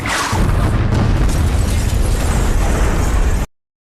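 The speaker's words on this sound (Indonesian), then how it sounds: "Nasib baik Bones dan temannya selamat dari ledakan." A loud, sustained film explosion that begins with a sharp blast and rolls on as a dense roaring rumble for over three seconds before cutting off abruptly.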